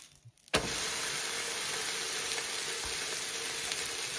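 Okonomiyaki topped with three pieces of pork frying in a pan, a steady loud sizzle that bursts in after a brief quiet start and holds evenly to the end with no talk.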